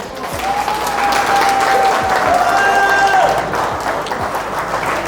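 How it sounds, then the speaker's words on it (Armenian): Guests at an engagement party break into sustained applause, a dense loud clapping crowd with cheers and a whistle rising over it, voices mixed in, easing slightly toward the end. "Ով համաձայն է, ծափերով ասեք, համաձայն եք։"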